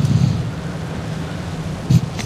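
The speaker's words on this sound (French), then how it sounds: "En plus, on a droit à la tempête." A video game storm roars steadily with dense rain-like noise, wind and low rumbling thunder, swelling briefly near the end, with no talk over it.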